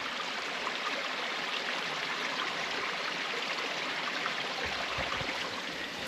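A steady rush of flowing water in a 2,000-year-old channel near Kalamata, Greece, like a stream running continuously nearby, with a constant even hiss and no voices.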